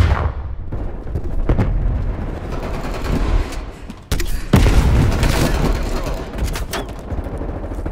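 Explosions in Call of Duty Black Ops Cold War team deathmatch, including RPG and grenade-launcher blasts: several heavy booms and bursts of gunfire, with one big blast midway followed by a long rumbling tail.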